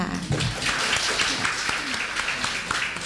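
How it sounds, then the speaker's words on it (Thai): An audience applauds the group 3 performers after a presentation, a dense, steady wash of clapping from many hands that holds evenly throughout. "ขอเสียงปรบมือให้นักแสดงของกลุ่มที่ 3 ด้วยค่ะ"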